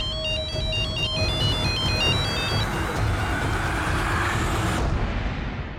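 A mobile phone ringtone plays a repeating electronic melody loud and close for about two and a half seconds, then fades into a rumbling background like passing traffic.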